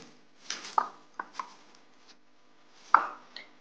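Maggi noodle cutlet mixture being mixed by hand or spoon in a bowl, giving a few sharp knocks and soft squelching scrapes, close and isolated in a quiet room.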